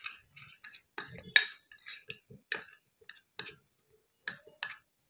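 A spoon works a homemade seed face-pack paste in a small bowl, giving soft, scattered clinks and scrapes. The taps come in irregular clusters, close and quiet, with silence between them.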